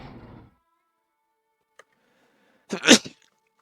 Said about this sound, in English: Apologize for that powerful sneeze.